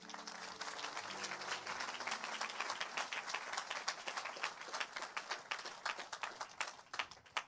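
A church congregation claps loudly and continuously in dense, rapid applause, with faint sustained tones underneath at the start, filling the whole stretch up close.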